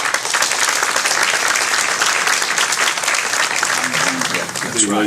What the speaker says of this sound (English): Let's go give everyone a round of applause.